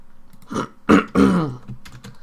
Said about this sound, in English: This cough is getting in the way now.